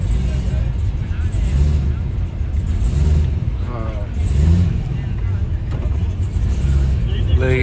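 A drag racing car's engine roaring and revving at a drag strip, loud and continuous with rising and falling pitch, heard under excited nearby speech and crowd noise.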